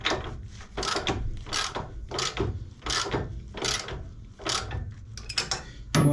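A ratchet tightening gasket bolts on an engine in repeated short bursts of rapid clicking, about eight strokes with brief pauses between, close and fairly loud.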